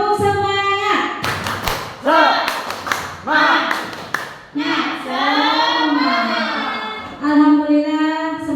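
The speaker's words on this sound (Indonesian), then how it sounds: "Kita tepuk semangat dulu untuk mengakhiri kegiatan ini" A group in a school training session performs a tepuk semangat clapping chant, voices chanting loudly in rhythm with bursts of hand claps and thumps.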